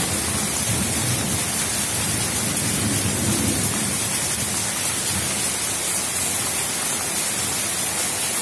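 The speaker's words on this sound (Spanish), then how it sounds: "continúa, continúa la tormenta." A heavy storm pours rain into a patio, with a dense, steady roar of downpour and low rumbling thunder rolling underneath throughout.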